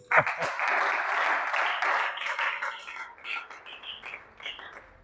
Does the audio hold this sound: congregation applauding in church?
yes